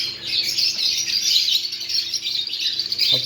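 A breeder pair of lovebirds chirps in quick, high, overlapping bursts, close and continuous, over a faint low background hum with no speech.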